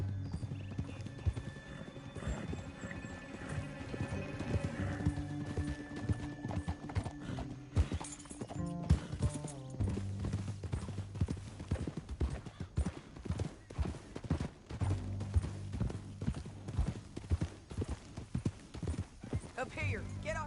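Horses galloping in Red Dead Redemption 2 with steady clip-clop hoofbeats, a brief whinny and a dense game score and ambience underneath, plus speech over the riding.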